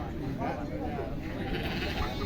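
Sheep, ewes with month-old lambs, bleat at a livestock sale, their wavering calls rising over steady background noise while someone talks.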